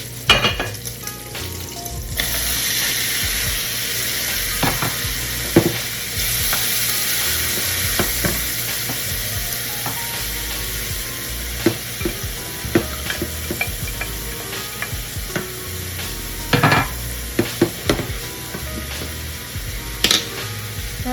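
Mixed vegetables drop into a hot pan with browned bacon and burst into a loud, steady frying hiss, with occasional sharp clicks and scrapes of a utensil against the pan.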